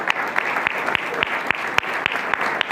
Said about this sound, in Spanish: darle un fuerte aplauso a Jesús